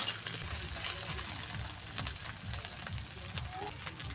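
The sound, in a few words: ginger garlic paste sautéing in a pan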